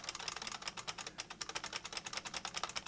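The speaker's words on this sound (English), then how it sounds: "Pardon my very noisy keyboard." Fast continuous typing on an old IBM Model M keyboard, loud clacky buckling-spring keystrokes in a quick, steady rhythm, close up and alone.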